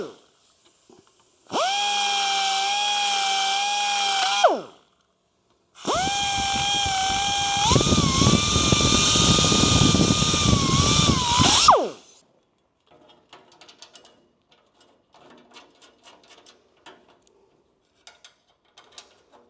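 Power tool trimming holes in a bumper bracket for a 1974-81 Camaro chrome split bumper conversion, two loud whining bursts, the second longer and grinding harder, followed by scattered clicks and light handling sounds.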